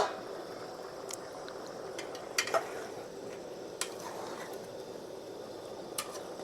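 Dried pork curry being stirred in a pot, with soft scraping and occasional light clinks of a spoon against the metal over a low steady simmer.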